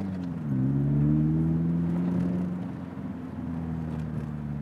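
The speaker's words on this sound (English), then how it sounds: "this car does have some sort of aftermarket exhaust" A car fitted with an aftermarket exhaust drives through a village, its engine droning close by with a steady low hum that rises slightly and then settles.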